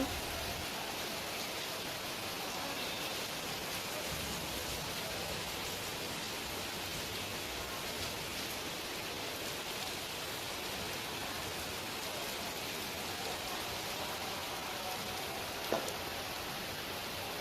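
Rain falls steadily outdoors at Tirupati, a broad even hiss that holds at the same level throughout with one brief knock near the end.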